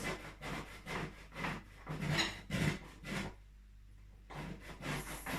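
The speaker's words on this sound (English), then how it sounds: "we need to grate also the lemon" A lemon being rubbed against a grater for zest, a series of rhythmic scraping strokes with a short pause before the rasping resumes, close and fairly quiet.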